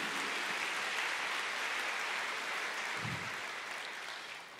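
A church congregation applauding during a sermon, a steady wash of many hands clapping at moderate volume that fades slightly toward the end, with a brief low thump near the middle.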